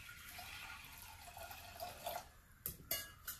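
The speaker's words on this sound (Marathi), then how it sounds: "त्याच्यात थोडा पाणी ओततोय." Water poured into a cooking pot set on a village wood-fire stove, a faint steady trickle and splash with a few sharper clinks near the end.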